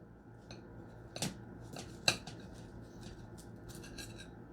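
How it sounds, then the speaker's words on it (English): A knife cuts open a baked stuffed garlic roll filled with pepperoni and sauce, making a few close, crisp crunching and scraping strokes over a quiet background, with the loudest cut near the middle. "I'm going to go ahead and cut this open."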